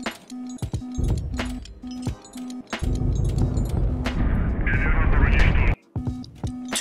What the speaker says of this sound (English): One machine gun.